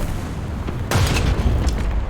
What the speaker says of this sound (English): I didn't even see the artillery coming in